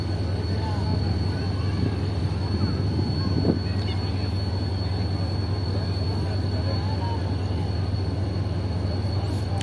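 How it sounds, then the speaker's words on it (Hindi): A through train passes on the railway track near Rahim Yar Khan as a steady, heavy rumble and hum heard from aboard another train, with one brief sharp squeal partway through. "और वो आ गई ट्रेन।"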